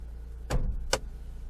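Hood release of a Toyota Fortuner 2.8 being operated, two sharp mechanical clunks about half a second apart, close and fairly loud, over quiet background.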